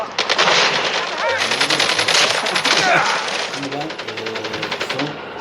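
Rapid automatic gunfire from the mobile shooter game Call of Duty Mobile, dense bursts of shots with in-game sound effects, loud and close, continuing through the whole stretch.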